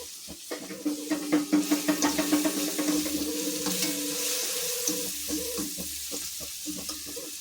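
Masala fries in a pan for gobi manchurian, a steady sizzle under a quick run of rhythmic spoon scrapes and knocks early on that fade into a smoother hiss.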